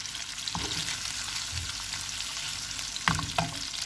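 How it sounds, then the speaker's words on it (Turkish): Köfte meatballs frying in a pan, a steady close sizzle throughout with a few soft knocks and scrapes as they are turned. "Hemen çok az kızartacağım."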